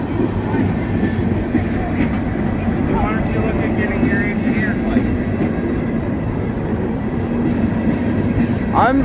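A four-engine CSX coal train rumbles steadily past a road crossing with clattering wheels and a faint horn note near the end, while people talk over the noise.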